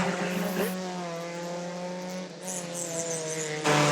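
Stock cars racing around a track, a loud, continuous engine roar with shifting pitch as the cars hold speed and surge past, with no commentary audible.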